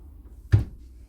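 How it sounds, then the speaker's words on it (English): A door is shut with a single short, close thud in an indoor home setting. Quiet room tone surrounds it. "Shut the door."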